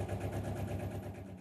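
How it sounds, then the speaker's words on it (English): A boat engine chugs close by as the boat moves through water, a loud, steady, low throbbing rhythm with no talking. "You can hear the engine, I'm right by the engine, chugging through the water here"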